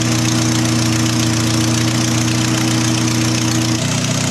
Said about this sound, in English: so we'll start the vehicle.